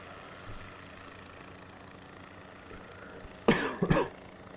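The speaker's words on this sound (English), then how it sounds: "An excuse for my coughing." Two close, loud coughs in quick succession near the end, heard over a low steady hum in a quiet room.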